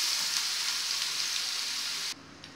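Chopped onion sizzles loudly in a spoonful of oil in a pan on a gas stove. The crackling hiss stays steady for about two seconds, then drops sharply to a faint background sizzle.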